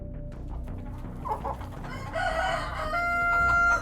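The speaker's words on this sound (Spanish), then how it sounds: "Los gallos empezaron a cantar." Roosters crowing at three in the morning in a rural setting: clucks and short calls at first, then a long, loud cock-a-doodle-doo swelling near the end.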